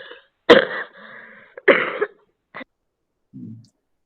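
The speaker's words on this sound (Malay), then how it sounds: "Tak, saya batuk sikit." A few short, throaty coughs come in quick bursts with brief pauses, close and fairly soft, followed by a faint low sound.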